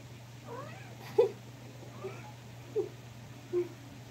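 A cat meows several times in short, separate calls, faint to moderate and fairly close, against a steady low hum, with no talk.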